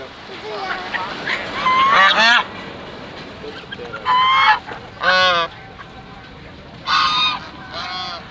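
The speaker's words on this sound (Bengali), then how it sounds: "আরও রয়েছে দেশীয় হাঁস মুরগি যেগুলো স্থানীয় মানুষ নিজেরাই পালন করে বাজারে নিয়ে" Domestic ducks and chickens at a village market in Diabari, Dhaka, give several loud, honking quacks in short bursts over steady crowd murmur.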